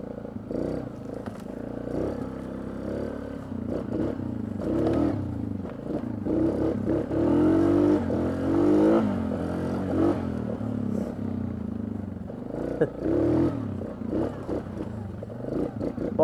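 Suzuki KingQuad 750 ATV on a test drive, its engine purring and rising through revs with clattering and scraping over rough ground, fairly close and continuous throughout.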